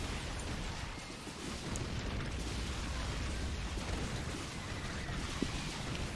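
Auto turrets blow up in a StarCraft II match, a dense, continuous rumble of overlapping explosions and crackling bursts filling the whole stretch, steady and loud with no talk.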